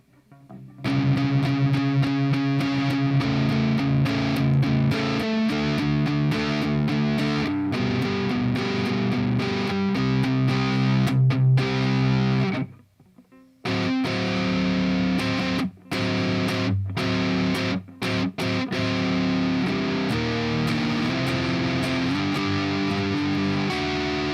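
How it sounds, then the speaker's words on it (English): A PRS Archon MK2 amplifier with distortion drives electric guitar playing dense chords and riffs for over twenty seconds, loud and sustained, with a brief pause midway and choppy stops near the end. "So I can pop the distortion back on real quick"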